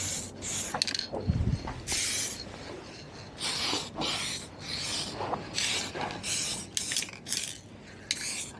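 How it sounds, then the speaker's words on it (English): An aerosol can sprays adhesion primer onto plastic parts of a 1983 Honda Stream/Gyro scooter in a series of short hissing bursts, close and fairly quiet, with brief pauses and light handling clatter between. "it's supposed to help the paint stick to the plastic"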